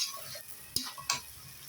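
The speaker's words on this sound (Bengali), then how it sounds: "চালটা একদম ভাজা ভাজা করে নিচ্ছে মশলাগুলোর সাথে" Rice frying in a pot with spices such as dried and green chillies, bay leaf, cardamom and cinnamon for coconut pilaf, a faint sizzle broken by a couple of sharp spoon scrapes and taps.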